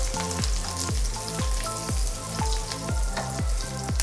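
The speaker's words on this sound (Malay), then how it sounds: "Kita tumis sampai daun kari tu jadi garing ya." Curry leaves and bird's eye chilies stir-fry in a pan for cereal prawns, giving a loud, continuous sizzle with rapid, regular crackling pops repeating about twice per second.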